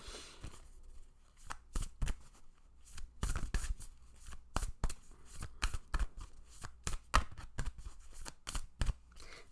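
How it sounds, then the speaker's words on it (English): Repeated crisp riffling bursts of cards being shuffled up close, in uneven flurries with short pauses between them. "gotta learn how to shuffle these cards"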